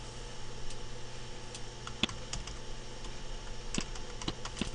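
Typing on a computer keyboard, steady clicking keystrokes at a moderate pace with a few sharper taps, fairly close and quiet.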